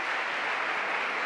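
A crowd claps in a steady, dense wash of applause, with no pauses or voices.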